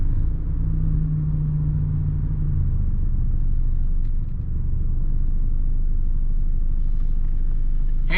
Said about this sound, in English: Hey man, that's a nice truck.